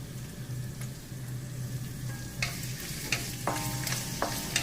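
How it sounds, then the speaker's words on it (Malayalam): Grated coconut and ginger frying in a pan for a beef roast, with a steady sizzle and several close, sharp spatula scrapes toward the end. "തേങ്ങ ഫ്രൈ ആയിട്ടുണ്ട്. ഇനി നമുക്ക് ഇഞ്ചി ഇട്ട് കൊടുക്കാം"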